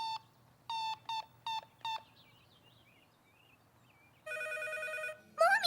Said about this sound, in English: I phoned you and the phone rang